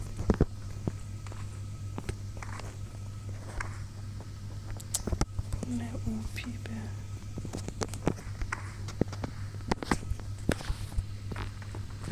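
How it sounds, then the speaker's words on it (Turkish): Footsteps in a Uzi-challenge shooter game sound as a run of irregular, fairly quiet thuds over a steady low hum, with a voice talking faintly now and then. "Sanırım ayak sesleri geliyor."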